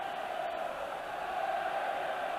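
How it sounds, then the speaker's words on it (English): A large stadium crowd at a Wales versus Scotland rugby match at Cardiff Arms Park in 1988 keeps up a steady roaring cheer. The sound is a continuous, fairly distant wash of voices with no breaks. "And listen to the cheering for Wales especially, but the big Scots contingent letting themselves be heard"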